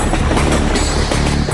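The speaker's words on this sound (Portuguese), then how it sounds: "Trens passam por todo o campo." Trains rolling through the countryside, a loud, close rumble of rail cars with rhythmic clickety-clack of wheels over the track, continuous and dense throughout.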